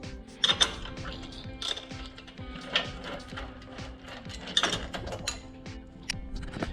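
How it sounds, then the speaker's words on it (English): A wrench ratchets as a collar is tightened on a GoPowerSports Mega Moto 80/105 minibike swingarm, with a series of quiet, close mechanical clicks at an irregular rhythm and occasional louder metallic knocks. "tighten up the rest of this collar right here"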